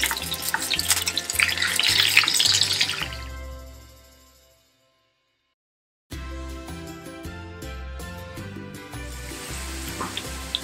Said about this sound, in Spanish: Ya que el aceite tomó temperatura, vamos a poner nuestras papas a dorar.